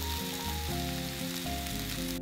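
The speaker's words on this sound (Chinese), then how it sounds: "因为旁边的料有在煎" Ingredients fry on an iron griddle beside a camping-style Camembert cheese fondue, giving a steady, soft sizzling hiss that runs throughout under louder background music.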